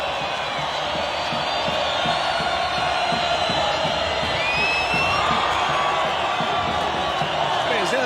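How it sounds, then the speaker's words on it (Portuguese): Vasco supporters packing the Serra Dourada stadium celebrate a win over Atlético-GO, a dense, sustained roar of cheering and whooping with voices talking over it. "a torcida festeja com os jogadores em campo"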